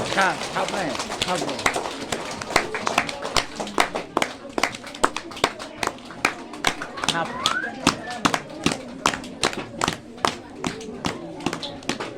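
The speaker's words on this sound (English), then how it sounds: "Let us all give a big clap while the students are giving this bouquet to our teachers." Audience clapping at a school Teacher's Day celebration while students present bouquets to teachers, heard as a loose, steady run of sharp claps spread through a room, with voices and background talk mixed in throughout.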